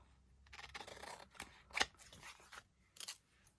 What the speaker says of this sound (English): I'm using my good scissors with all this glue on.